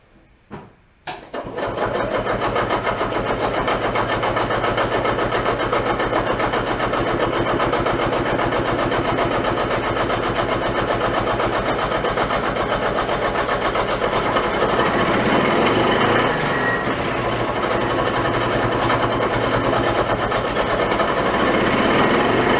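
A gas-powered golf cart pickup truck, a barn find, starts on choke after a brief cranking, then runs steadily with a loud, buzzy small-engine drone held close by for the remainder.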